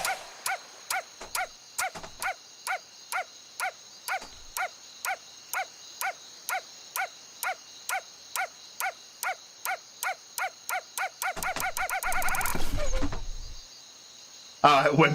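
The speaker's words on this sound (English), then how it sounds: "Alright, let's hear the dog." Dog barking sound effect from the Wii Play Motion video game, a long run of evenly spaced, sharp electronic barks that speed up toward the end and finish with a whimper, followed by a burst of noise.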